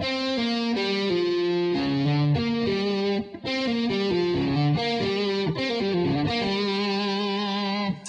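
A distorted electric guitar plays a quick blues pentatonic lick of hammered and pulled notes, loud and close, pausing briefly before continuing the phrase.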